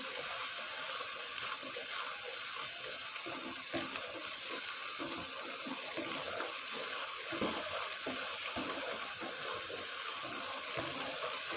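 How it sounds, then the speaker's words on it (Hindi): Water poured a little at a time into a spiced gravy on the stove, giving a steady broadband splashing and gushing that runs for several seconds, fairly constant and close, with no voices over it. "एक कप पानी शामिल कर देते हैं इसमें,"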